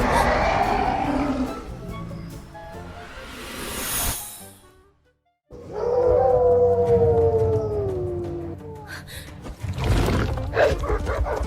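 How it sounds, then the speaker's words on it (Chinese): Silver moon wolves, fantasy beasts, let out a long wavering howl that rises and bends, loud and close, after a stretch of roaring rumble and a brief silence, with a final burst of noise. "一阶魔兽，银月狼"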